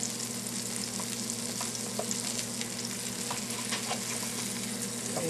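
A loaded pepperoni and cheese quesadilla sizzles steadily in a hot pan, a continuous close frying hiss with small pops scattered throughout and no talking.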